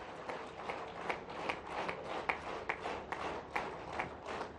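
An audience claps loudly and steadily at a political speech by a chief minister at the inauguration of a grain and pulses industry expo in India, with dense applause and regular surges throughout and no talking.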